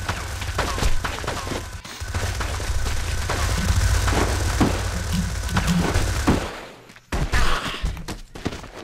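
Gunfire bursts in The Punisher video game, a dense rattling barrage through most of the stretch with thuds and impacts, briefly cutting out before resuming loudly near the end.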